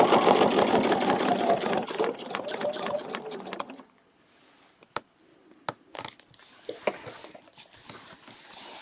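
A sewing machine runs steadily, stitching a straight line across a quilt for a few seconds before stopping, followed by quiet taps and fabric handling sounds.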